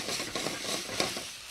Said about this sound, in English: Put it right in here. Oh, can you hear the sizzling sound? That means this wok is very,